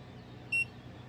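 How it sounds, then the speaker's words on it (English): A single short electronic beep from a Frizzlife LP365 smart water monitor entering pairing mode rings out clearly over faint background hum, lasting a fraction of a second. "hold them together for 5 seconds till we hear the beep and enters pairing"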